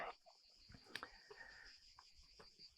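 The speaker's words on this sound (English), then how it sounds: "All I can hear are the cicadas" Faint, steady cicada buzzing drones in the background of a quiet outdoor scene in the Umbrian countryside, with a few soft knocks and rustles nearby.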